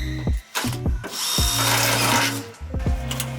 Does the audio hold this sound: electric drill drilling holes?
yes